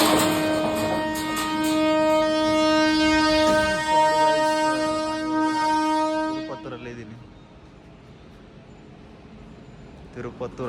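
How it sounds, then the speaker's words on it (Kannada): A train passes near Tirupattur with a sustained, loud horn blast over rolling wheel and carriage noise for several seconds, then fades into a low, distant rumble while people talk nearby. "ಟ್ರೈನ್ ಹೋಗ್ತಾ ಇದೆ."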